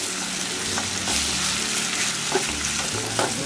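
Ginger, garlic, green chili, coriander and cumin paste frying in a pan for aloo gawar sabji, a steady close sizzle with occasional stirring scrapes, no voices.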